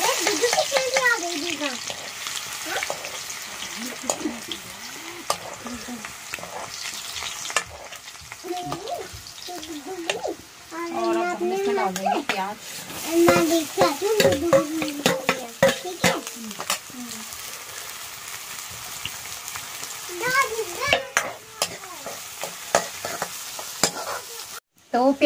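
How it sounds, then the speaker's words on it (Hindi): Onions frying in a pan, a steady close sizzle running throughout with occasional stirring scrapes, while a woman and others chat over it at intervals. "तो प्याज भी यहाँ पे अच्छे से फ्राई हो गया है"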